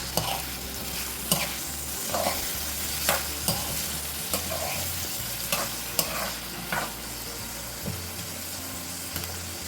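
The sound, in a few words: stirring pumpkin vegetable dish in pan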